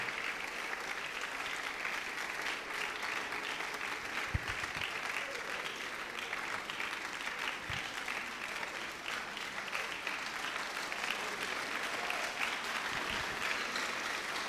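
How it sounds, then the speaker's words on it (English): Steady applause from an audience in a hall honoring the chairman at a panel discussion, a dense, sustained clapping that holds at an even level throughout with no voices rising above it. "A bigger clap for him, a bigger clap for him."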